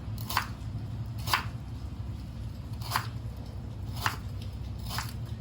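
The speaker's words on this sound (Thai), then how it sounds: "ต้องใส่กระชายร่วมด้วยนะครับ แล้วก็หั่นไปนะครับ" Fingerroot (krachai) is sliced with a knife in five crisp, separate cuts spaced roughly a second apart, close up over a low background hum, with no talking.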